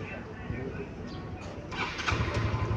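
A motorcycle engine turns over and catches with a short starter whir before settling into a low, close idle rumble, while someone talks through much of it and birds call faintly in the background.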